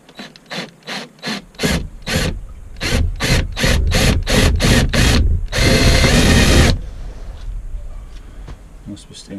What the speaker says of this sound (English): See if this will drill out.